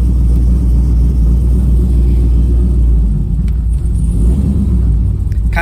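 A Pontiac Firebird Trans Am with a swapped LQ4 V8 and big cam rumbles steadily while driving, a deep, loud, continuous low drone with slight surges in pitch.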